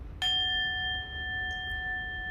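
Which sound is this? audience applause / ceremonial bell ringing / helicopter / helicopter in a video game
ceremonial bell ringing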